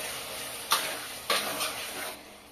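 Chicken keema with meat masala is stir-fried in a pan: a soft steady sizzle broken by two sharp spatula scrapes against the pan, close and brief.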